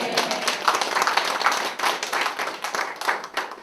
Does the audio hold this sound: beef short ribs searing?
no